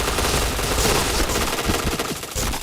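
Gunfire in the Point Blank video game comes as a loud, rapid burst of automatic shots, close by and dense, lasting almost three seconds.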